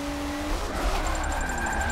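Car drifting in Forza 7 with a steady high tire squeal over a continuous engine drone, moderately loud and sustained, with no talking.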